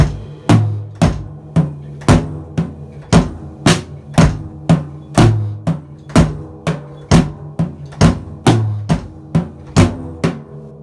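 Drum kit plays the groove from a song at a slow tempo, with steady, evenly spaced sharp hits and low kick thumps repeating for about eleven seconds, close and alone with no talk.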